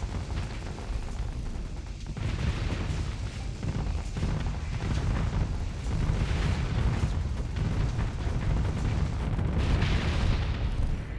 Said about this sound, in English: the missile barrage is coming in